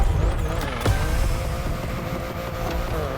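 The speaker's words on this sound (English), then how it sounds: "BMW รถ i8 มาแล้วครับผม" Continuous engine roar of a BMW i8 in a racing video game, a steady loud drone under game music with a faint voice talking over it.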